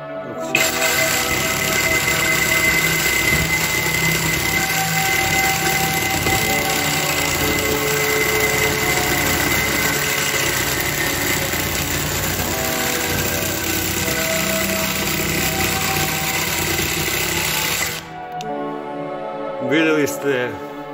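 A Parkside Performance PSSAP 20 Li C3 cordless sabre saw cuts through a thicker pipe, giving a loud, steady, rasping buzz that runs unbroken for about eighteen seconds before it abruptly stops.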